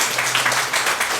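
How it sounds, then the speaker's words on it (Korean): Church congregation applauding during a Korean Sunday service, brisk continuous clapping from many hands, close and fairly loud. "네, 박수해 주시기 바랍니다."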